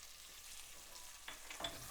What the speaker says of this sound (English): add the cumin seeds. Let them sizzle for a few seconds